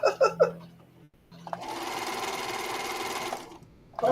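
A sewing machine stitches bias binding onto a quilted test strip. A woman hums or sings briefly at the start and at the end, and between those moments the machine runs in one steady, whirring burst of about two seconds.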